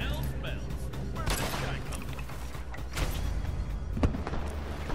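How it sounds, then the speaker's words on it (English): Gunfire from blink shots in a video game shootout, a series of sharp loud shots over continuous rumbling game noise, with a voice talking underneath. "So now I can just do some casual blink shots"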